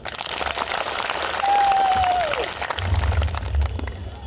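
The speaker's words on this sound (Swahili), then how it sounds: "Nimpigie makofi sana." Crowd applause at a community meeting in Karuba, Masisi, a sustained wash of clapping with a brief whistle-like tone in the middle and low rumble toward the end.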